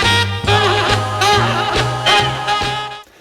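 Saxophone solo from a recording, opening phrase with a fast vibrato shake on repeated notes over a steady band backing, loud and full.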